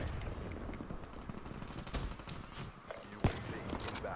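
Rapid automatic gunfire in Call of Duty Black Ops 3, fairly quiet and busy with overlapping shots and a sharper crack near the end.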